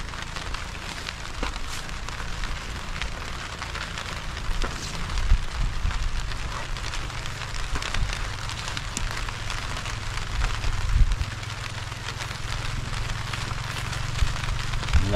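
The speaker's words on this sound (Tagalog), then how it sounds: "Ulan na talaga" Steady rain falling outdoors over a farm plot at planting time, a continuous dense hiss of drops with occasional louder spatters, no voices.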